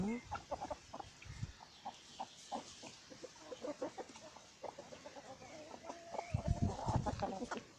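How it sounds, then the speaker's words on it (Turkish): A rooster clucks repeatedly in short, close bursts, with a louder flurry of clucking and scratchy movement near the end. "Bu da onun horozu."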